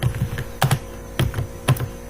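Code is typed on a computer keyboard in a C++ programming session. Clustered key clicks come at a fairly even, brisk rhythm, close and clear with no voice.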